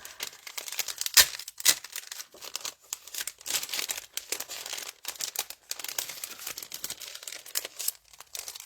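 Sheets of patterned craft paper are shuffled and handled, making continuous soft crinkling and rustling with a few sharper crackles, close by and quiet, with no talking.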